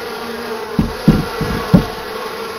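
Honey bees buzzing loudly and continuously near a hive being split, frame by frame, with a few dull knocks and bumps of wooden hive parts being handled.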